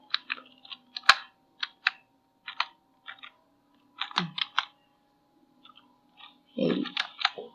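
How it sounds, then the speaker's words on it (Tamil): Typing on a computer keyboard, a run of crisp clicking keystrokes in irregular bursts with short pauses, close and fairly quiet, no voices. "நான் யூடியூப் thumbnail அப்படின்னு சொல்லி டைப் பண்ணுறேன்"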